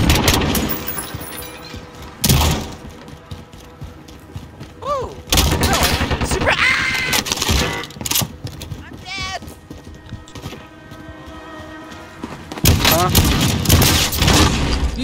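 Gunfire in Call of Duty: Warzone, several loud sharp shots in short bursts, mixed with hoofbeat-like clatter, other game effects and players talking over the action.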